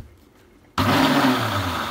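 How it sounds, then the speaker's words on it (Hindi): An electric blender whirs loudly as it purees onions and green chillies with a splash of water into a paste, starting abruptly after a quiet moment and running steadily to the end. "अब सबसे पहले हम ब्लेंडर में प्याज और हरी मिर्चों को ब्लेंड करेंगे,"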